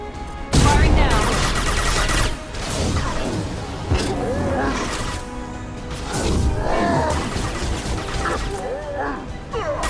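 Gunfire in the Mass Effect 2 video game, sharp shots and bursts with crashing impacts and whooshes through a firefight, while voices talk throughout.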